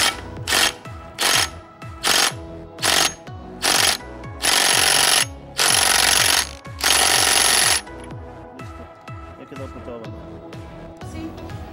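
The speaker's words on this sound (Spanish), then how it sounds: "Meto la pistola y vamos a darle hacia la izquierda." An air impact gun with a tower socket loosens a crankshaft bolt, firing a run of loud rapid hammering bursts that lengthen toward the end before stopping, followed by quieter workshop noise.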